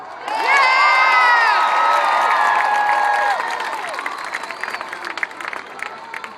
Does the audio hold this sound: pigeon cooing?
no